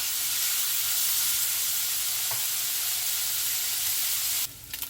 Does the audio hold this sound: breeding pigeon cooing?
no